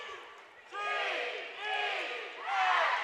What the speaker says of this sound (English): St. John crowd going crazy now.